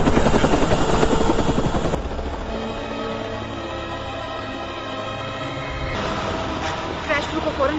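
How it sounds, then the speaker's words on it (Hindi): A helicopter about to crash in an animated action film, its loud rotor chop and engine roar pounding steadily throughout, dipping slightly then swelling again near the end. "जो हमारा हेलीकॉप्टर गिरने वाला है।"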